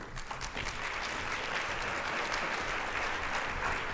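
Steady applause from a sizable conference audience at an opening keynote, dense clapping holding at an even level throughout with no voices standing out.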